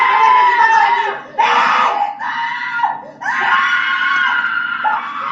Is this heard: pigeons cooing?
no